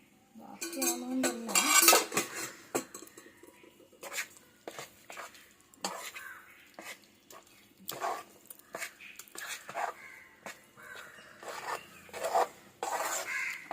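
A spoon scrapes and clinks around a pot of jackfruit and coconut filling for sweet jackfruit ada, with close, irregular metallic strokes and short pauses between them.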